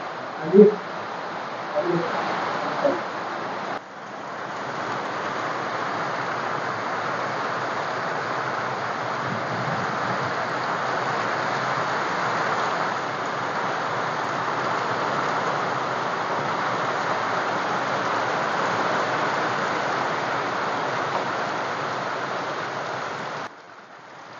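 Steady rain pours down in a constant broadband hiss, heavy and even throughout, with a brief knock and rustle at the start.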